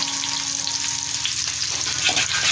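Oil sizzles and crackles in a pan as beef mixture for lettuce wraps is fried and stirred, a continuous close, fairly loud frying hiss with a low hum underneath and no voices.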